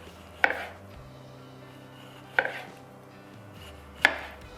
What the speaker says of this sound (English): And now tomatoes, slice also 4-5 millimeters.